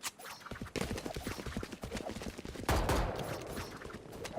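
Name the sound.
gunshots in a Rainbow Six Siege esports match, video game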